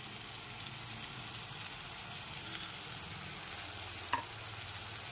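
Ginger, garlic, tomato and spice paste frying over a medium flame in a pan, a soft continuous sizzle, broken once by a brief scrape of the stirring spoon.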